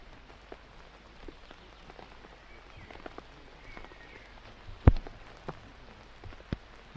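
Rain falls on an outdoor disc golf course in a soft, steady patter, with a few louder drips and taps standing out against the quiet background.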